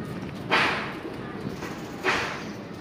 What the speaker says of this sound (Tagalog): Sibat na talaga mga kalapatids.